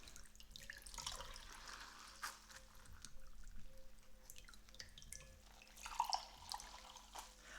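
Water drips faintly and steadily, with a soft trickle and a few small splashes near a sink after an object is dipped in cold water.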